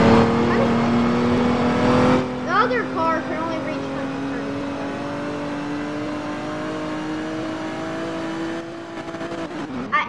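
An RC Corvette runs at top speed, its high electric motor whine holding steady and rising slightly for several seconds before cutting off, with a brief voice partway through.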